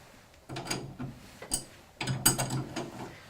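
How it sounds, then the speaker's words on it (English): An adjustable spanner turning a nut anti-clockwise on a tap spindle while replacing a washer gives a few close, quiet metallic clicks and ratcheting scrapes in short bursts. "Set the size of the spanner to the size of the nut and gently turn anti-clockwise."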